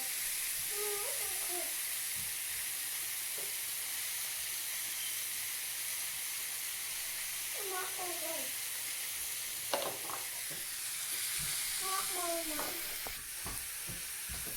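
Steak on a grill gives a steady close sizzle and hiss that runs the whole time, broken now and then by faint scraping and clinks from handling.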